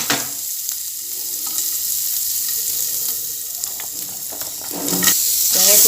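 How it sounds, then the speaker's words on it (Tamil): Grated coconut sizzles and fries steadily in a little oil in a pan while making mint chutney, a close continuous crackle with occasional stirring scrapes, growing louder near the end. "இப்போ அதே பாத்திரத்தில் கொஞ்சமாக நம்ம எண்ணெய் விட்டுக்கலாம். இப்போ வந்து நம்ம தேங்காய் வந்து சேர்த்திக்கலாம்."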